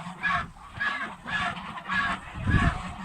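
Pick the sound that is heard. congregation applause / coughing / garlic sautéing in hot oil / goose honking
goose honking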